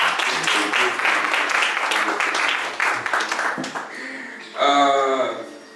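A conference audience claps for a panel of speakers: dense, sustained applause that thins out near the end, followed by a brief burst of a different, brighter sound.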